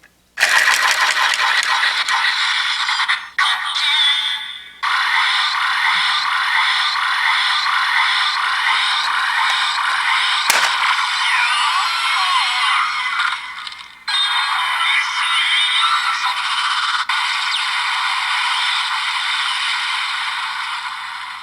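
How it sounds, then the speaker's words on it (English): Bright electronic jingle and chiming effects from a DX Blizzard Sorbet Gochizo Kamen Rider Gavv toy after spinning and a button press, loud and continuous with rapid repeated tones and a few brief breaks. "the final sound you get is when you get by spinning it 4 more times and then pressing the button"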